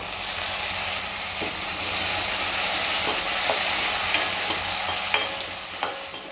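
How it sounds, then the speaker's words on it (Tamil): A steady sizzle of onion and tomato frying in a pan, with occasional light clicks of a spoon stirring, close and continuous throughout. "வெங்காயம் தக்காளியெல்லாம் நல்லா வதங்கிடுச்சு"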